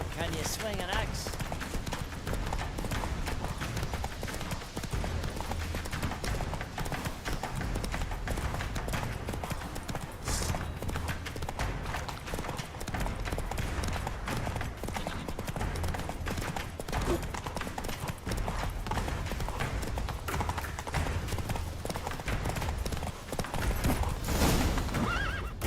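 Roach the horse gallops at a steady rhythm of hoofbeats and neighs in The Witcher 3 video game. Loud battle and voice sounds fill the background, and people talk over the hooves.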